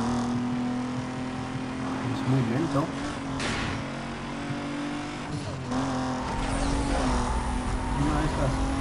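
Mitsubishi Eclipse engine in Need for Speed Most Wanted, a steady droning hum with rising revs and a brief tire-squeal texture, running continuously under a voice talking over it.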